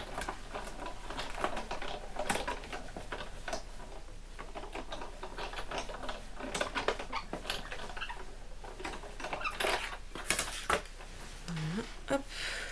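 A die-cutting machine cuts a pop-up Christmas card, giving scattered mechanical clicks, taps and light clattering at moderate volume, with a few sharper knocks and no talking.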